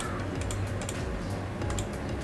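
A computer mouse clicks repeatedly on a frozen PC, giving sharp little ticks in quick irregular bursts over a low steady hum with no talking.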